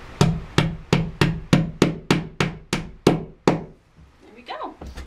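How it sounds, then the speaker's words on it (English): A hammer taps sharply about a dozen times in a steady rhythm, driving an anchor into drywall, each strike crisp and close, followed by a brief soft rustle. "Tap this into place."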